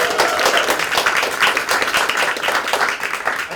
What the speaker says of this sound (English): and so I think we really need a round of applause for Matt Schumann.